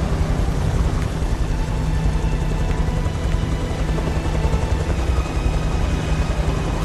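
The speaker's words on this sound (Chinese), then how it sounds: "直升机！" A helicopter in the video game Beyond: Two Souls gives off a loud, steady rotor roar with constant engine rumble throughout, and no one speaks over it.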